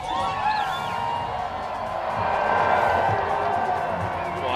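A large outdoor crowd at the Dew Tour women's ski streetstyle final at Copper Mountain cheers and whoops in a steady, loud roar, with some clapping and a voice talking over it.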